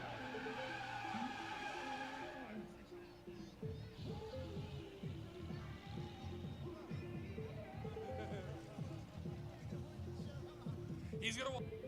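A drift car burns out at a live drift pit event, tires skidding and squealing in a long sustained roar with revving engine, while an announcer talks over it.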